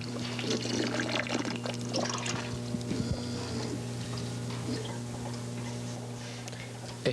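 Water pours and trickles steadily for several seconds, a close, continuous splashing stream with small ticks and clinks, filling a drink.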